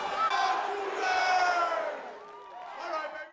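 A stadium crowd at the Alamo Bowl roars and cheers in a loud, sustained swell with shouted voices that fades and then rises again.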